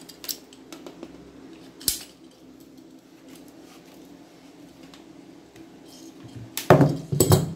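PVC tube section being cut by hand for a homemade TV antenna, a few sharp snipping and scraping bursts, close and brief, with the loudest cutting near the end and quiet handling between.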